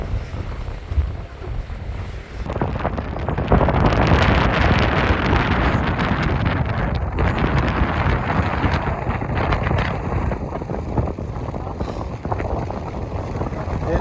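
Strong, steady gale-force wind over a bay with whitecaps near Charleston, South Carolina, buffets the microphone in a loud broadband roar, gusting throughout with no voices.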